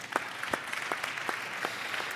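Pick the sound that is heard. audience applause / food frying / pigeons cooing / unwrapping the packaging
audience applause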